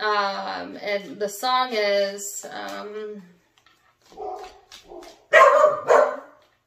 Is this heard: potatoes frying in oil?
no